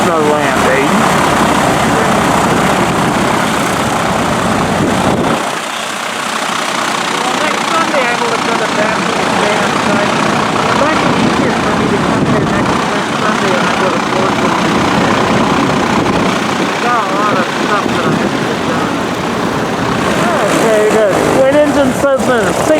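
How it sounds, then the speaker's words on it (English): A single-engine Cessna lands and taxis at the airfield in Camarillo, its steady propeller engine drone loud and continuous throughout, briefly dipping before rising again, with voices talking over it. "Here's a second Cessna landing."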